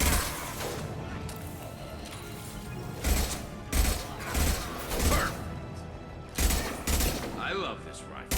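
Rifle fire from Mass Effect 2 cracks out in heavy, spaced shots, some in quick pairs, over a rumbling background of combat noise, with a voice talking underneath.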